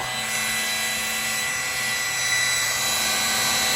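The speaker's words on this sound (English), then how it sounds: "apparently the fan will stop" An electric fan running with a steady whirring hum and airy rush, constant and close, with no talking over it.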